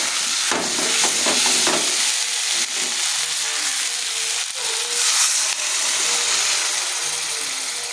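Water goes into a pan of sautéed spices and hits the hot oil in a loud, broad sizzling hiss. The hiss holds steady and close, with a few clattering bumps early on.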